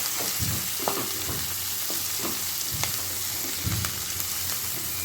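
Cabbage stir-fried with ginger in a pan for fried rice, a loud continuous sizzle broken by repeated scraping and tossing strokes of a spatula, close and without voices.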